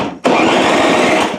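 A snowblower's small engine catches and roars to a loud, steady buzzing idle after a short quiet pause, close by and alone.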